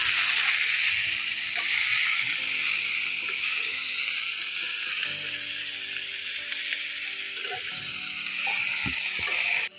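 Soft homegrown water spinach sizzles steadily in a hot pan while being stirred, a bright continuous hiss with occasional scraping and clicking from the utensil.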